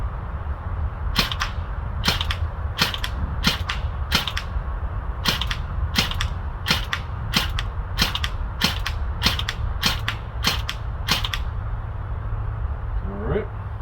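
Battery-powered airsoft G18 replica pistol fires about sixteen sharp, evenly spaced snapping shots at close range over a steady low background hum, then stops.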